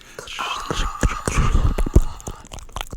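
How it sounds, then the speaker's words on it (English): Dense crackling and popping of a fire in a video game, irregular sharp snaps, close and fairly loud, with faint breathy sounds mixed in. "That's the fire crackling."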